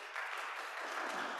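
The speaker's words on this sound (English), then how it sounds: "can we get a round of applause for Salem's choir, our music directors?" A church congregation gives a brief round of applause for the choir and music directors, a soft, even wash of many hands heard from a distance.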